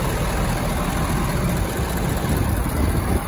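A 2019 Ford F-250 Super Duty with the 6.7 liter Powerstroke diesel idles up close, a loud, steady low rumble with an even churning texture throughout.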